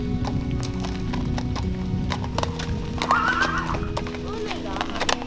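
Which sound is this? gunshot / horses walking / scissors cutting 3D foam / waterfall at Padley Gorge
horses walking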